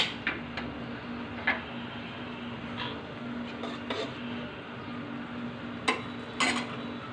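A spice paste for a rohu fish and mung dal muri ghonto fries in a pan, with a soft, constant sizzle broken by occasional sharp scrapes and clinks of a spoon stirring against the metal.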